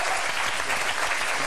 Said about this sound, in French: Applaudissez-les parce que c'était très bien joué.